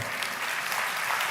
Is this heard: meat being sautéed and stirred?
no